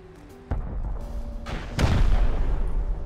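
Rocket blasts strike a Bradley armored vehicle in the survival game Rust: a loud boom at half a second, then a second, heavier explosion near the end that leaves a sustained rumbling roar.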